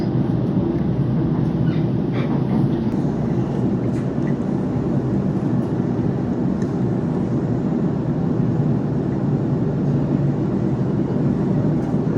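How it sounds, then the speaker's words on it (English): A train runs toward Milson's Point station, a loud steady rumble with rolling wheel and track roar heard from inside the carriage, continuous throughout. "This train will stop at Milson's Point."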